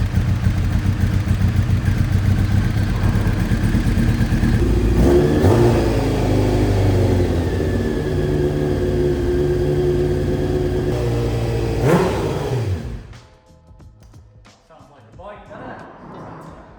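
A Honda CBR600 motorcycle engine, run on fuel poured straight into the fuel filter while the bike is being repaired, roars loudly and revs up and down for about twelve seconds before cutting out to near quiet.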